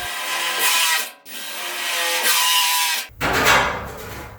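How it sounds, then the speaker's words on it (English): A power drill bores holes into a steel bracket for a car trunk lid on a 1940 Ford-inspired custom build, loud and close, in two long bursts with a short pause between them and a rougher, lower-pitched burst at the end. "let's get this drilled."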